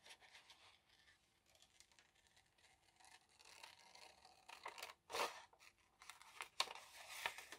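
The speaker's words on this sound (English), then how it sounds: "I do want to cut around this butterfly" Scissors snip and slide through paper while cutting around a butterfly shape for a collage, the quiet, close crunches growing louder and more frequent toward the end.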